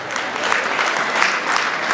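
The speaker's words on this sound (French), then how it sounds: "Là-bas, ça s'applaudit." An audience at a women's day event in Geneva applauds steadily, a dense, even clapping from a crowd that continues throughout with no break.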